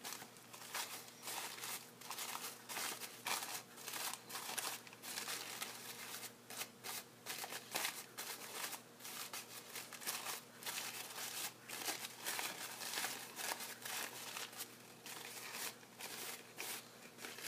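Soft, continuous crinkling and snipping as a craft material is trimmed with scissors and fluffed out by hand, close and quiet, with irregular rustles running throughout.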